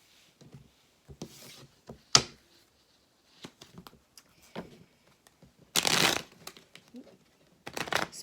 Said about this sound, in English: I have been meditating on the cards and shuffling